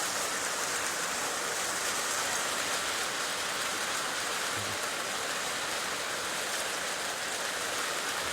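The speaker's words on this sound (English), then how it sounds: "Man, it's really coming down. I love a good spring rain." Heavy spring rain pours down in a dense, unbroken hiss that stays steady and fairly loud throughout, with no voices.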